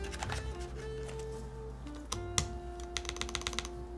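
Typing on a Neo75 copper-case mechanical keyboard fitted with Gateron Type R switches, a steady run of close keystrokes with a few sharper clacks near the end and a faint clicking stabilizer, alone without talk.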